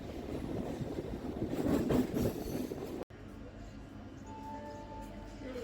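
A local train pulls into platform three at Santragachi station on the Howrah–Digha line, a dense rolling rumble with rail clatter for about three seconds before an abrupt cut to quieter platform ambience with faint tonal hums.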